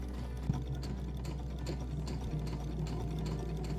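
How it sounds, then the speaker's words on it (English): A sewing machine stitches along the ribbing line of a knit garment's hem and sleeves, running as a quiet, steady mechanical whir with a rapid, even needle rhythm close by. "Now I'll sew along the ribbing line on both the bottom and the sleeves"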